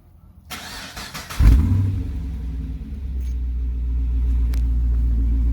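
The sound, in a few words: V8 car engine starting, aftermarket exhaust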